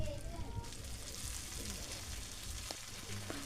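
Red amaranth greens frying with onions in a pan give a soft, continuous sizzle as they are stirred, faint and low under quiet room noise.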